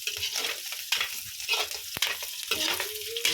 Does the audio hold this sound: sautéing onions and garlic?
yes